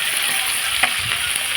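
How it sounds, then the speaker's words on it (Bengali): Fish pieces frying in hot oil in a wok give a steady, dense sizzle, loud and continuous throughout with no talking. "মাছ একে একে ভাজা হয়ে যাচ্ছে"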